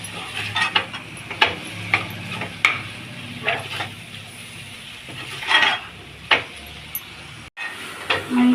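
A utensil scrapes and taps in a pan as chilli powder and turmeric are stirred in while cooking egg curry, giving regular clinks over a soft sizzle, with brief low voice murmurs.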